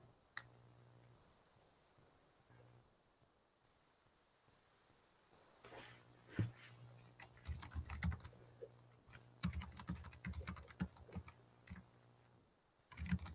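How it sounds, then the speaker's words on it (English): Rapid keyboard typing in bursts of quick clicks, moderately close, during an online webinar, after a few quiet seconds with faint taps. "I'm hearing some typing,"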